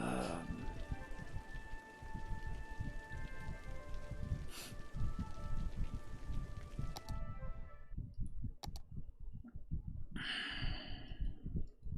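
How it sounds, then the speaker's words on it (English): Steady rain falls in a video game, a dense patter with scattered drips and clicks running throughout, joined by a faint tonal hum and brief hiss near the end. "it's still daytime and it's still raining."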